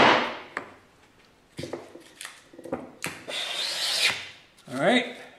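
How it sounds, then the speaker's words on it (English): A hand plane cuts shavings from sassafras wood along the grain in a series of short, close rasping strokes that swell into a longer smooth pass, faint and without talk. "You get nice, clean, crisp shavings and a polished surface."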